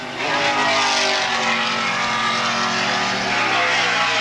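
Race cars, a Grand Am and a Skylark among them, roar down the home straightaway at Brainerd in a 1981 IMSA Kelly American Challenge race, a loud, sustained engine blare with rising and falling pitch as they pass.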